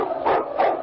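Lead husky sled dog Yukon King barking two quick, close barks in a short, slightly muffled old radio-style recording.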